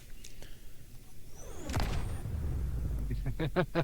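A small railgun turret fires in a video game, a sudden loud boom with a sweeping electronic zing that rolls into a lingering rumble, followed by short voice bursts.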